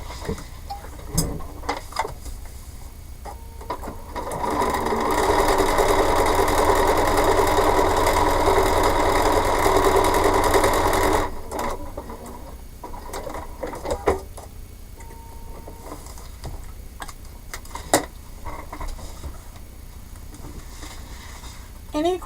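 A sewing machine stitches paper-pieced quilt blocks in one steady, loud continuous run of about six seconds, surrounded by quieter handling noises and scattered clicks before and after.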